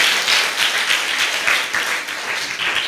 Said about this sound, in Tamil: நல்ல கைத்தட்டி ஏசப்பாவுக்கு நன்றி சொல்லுங்க பார்க்கலாம்.